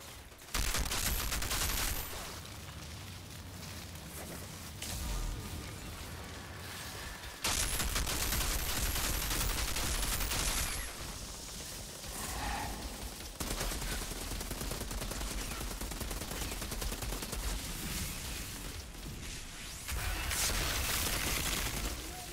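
Gunfire in the Outriders video game, sustained bursts of rapid automatic shots and fusillades with loud stretches alternating with slightly quieter ones over a busy game soundscape.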